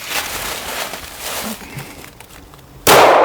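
A single loud, sharp gunshot from an EAA Girsan Witness 2311 pistol bursts out near the end, after a few seconds of quieter outdoor background.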